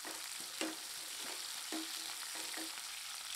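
Finely chopped onions sizzle and crackle in hot oil for mango rice, with a few soft scrapes of a spoon stirring the pan.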